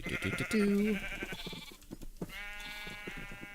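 Minecraft sheep bleating in a survival farm pen, several close, clear wavering bleats, one long and loud near the start, then others overlapping amid small game sounds.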